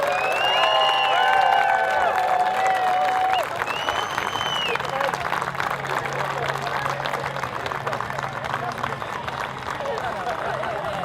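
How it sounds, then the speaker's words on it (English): A large crowd in stadium stands applauds continuously at an outdoor ceremony honoring graduating seniors, dense clapping mixed with cheers and whistles, slowly easing in intensity. "How about a round of applause and a big congratulations for these athletes?"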